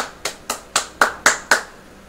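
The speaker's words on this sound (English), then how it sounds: "let's get a big round of applause for Mrs. Lynch" A single person claps six times at a steady, even pace in a room. Each sharp, close clap decays quickly, and the sound stops with no other voices or crowd.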